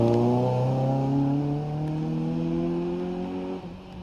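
A 2-litre Seat Cupra hot hatchback races at the Prescott hillclimb, its engine holding a loud, strained tone that slowly climbs in pitch before a brief gear change or lift near the end.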